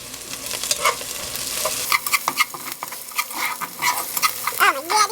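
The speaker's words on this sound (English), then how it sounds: "Now that the onion has started to caramelize, I'm going to add my ginger and my garlic" Ginger and garlic frying in a pan with caramelizing onion for a Kenyan coconut curry, a steady sizzle broken by scraping, clinking stirs of a utensil against the pan, close and continuous.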